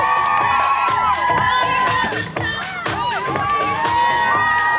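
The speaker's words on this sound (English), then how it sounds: "So make sure you're cheering your favourite tricks." A crowd of young girls cheers and shrieks loudly at a football freestyle session, high excited voices overlapping continuously and close by with rhythmic claps or stamps underneath.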